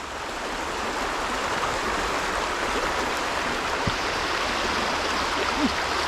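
A strong river current rushes steadily nearby, a dense broadband roar of flowing water that holds constant throughout.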